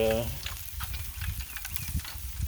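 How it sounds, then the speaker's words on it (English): Pork chops frying on a hot Blackstone griddle outdoors, a steady close sizzle with crackling pops, with a voice briefly heard at the start. "Got the griddle cooking good."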